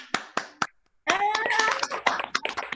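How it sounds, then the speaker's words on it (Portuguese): An online audience at a Zoom book launch claps over open microphones: a few sharp claps, a short pause, then a burst of overlapping clapping mixed with voices and cheers. "Uma salva de palmas."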